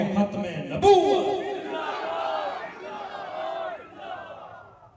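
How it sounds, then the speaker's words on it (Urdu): A crowd at a religious gathering roars the slogan Tajdar-e-Khatm-e-Nabuwwat, a loud collective shout that swells near the start and then trails into a mix of voices fading away. "بس دو نعرے لگانے ہیں، تاجدار ختم نبوت"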